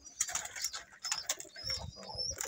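Pet pigeon cooing softly in a home setting, low murmuring coos recurring through the clip alongside brighter chirps and background clatter.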